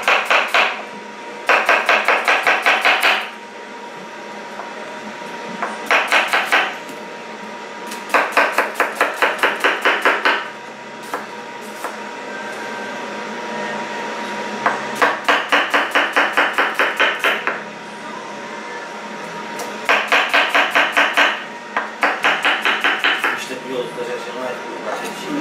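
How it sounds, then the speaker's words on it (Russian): Rapid knife chopping of onion on a cutting board for plov in several quick bursts of rhythmic taps, separated by short pauses, close and fairly loud. "Быстренько нарезаем."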